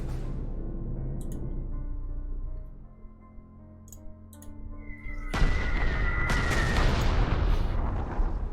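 A bombing attack in the Panzer Corps video game, a sudden loud blast that erupts after a quieter stretch of faint clicks and tones, leaving a long roaring rumble.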